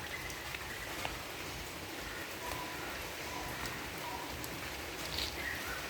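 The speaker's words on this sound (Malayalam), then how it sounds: "ഭയങ്കര മഴ അടിപൊളി മഴ" Steady heavy rain falls on a garden in a constant hiss with occasional droplet taps, moderately loud and even throughout.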